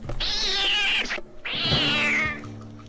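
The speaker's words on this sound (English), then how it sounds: "the camera's pushing in, and then it's a cat." A cat's meow used as a horror-film jump scare: two loud, drawn-out yowls close by, each about a second long, separated by a short gap, with no talking.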